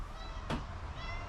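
A cat lets out a single short meow midway through, close and clear above a low background hum, with no speech alongside it.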